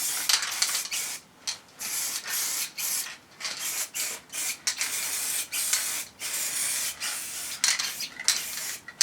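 A nearly empty spray paint can hisses in repeated short bursts, some spitting and sputtering, as heat shields for a Triumph Scrambler are painted in a garage; close and fairly loud with uneven gaps between sprays.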